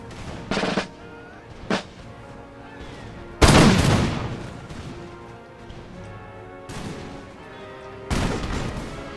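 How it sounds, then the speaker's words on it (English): Ragged musket volleys from Cossack troops in Empire: Total War, a handful of sharp bursts spread across the battle, one especially loud and crashing, mixed with distant crackle and battlefield rumble. "Fire those muskets which have no bayonets"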